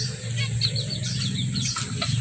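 Society finches chirp in quick, high, overlapping tweets close by over a low steady background hum.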